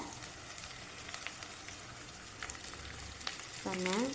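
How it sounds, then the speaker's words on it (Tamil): Ginger garlic paste frying with golden-browned onions in a pan for Pallipalayam chicken gives a close, steady crackling sizzle throughout, with a brief whistling, wavering tone rising near the end. "கோல்டன் கலரில் நல்லா வதங்கினதுக்கப்புறம் இப்போ வந்து இஞ்சி பூண்டு பேஸ்ட்டு ஆட் பண்ணிக்கிட்டு இருக்காங்க"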